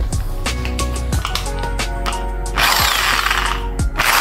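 A corded car buffing machine is plugged in and runs with a loud, steady motor whine and broadband hum throughout, with a brief rattling burst partway through.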